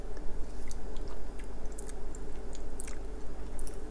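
Chewing on a Korean spicy chicken feet mixture, close and wet, with soft rhythmic squishing bites and small crisp clicks over a low steady background hum, no talking.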